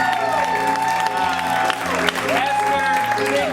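An audience applauds and cheers at an improv comedy shootout show in Portland. The clapping sits under loud, tonal music and voices throughout.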